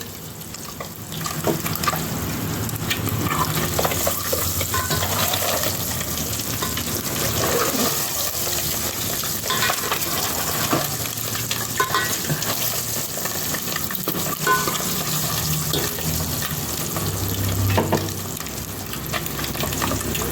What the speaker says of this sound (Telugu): ఇదిగోండి గుడ్లు వేగుతున్నాయి కదండి.